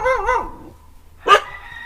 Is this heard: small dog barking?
yes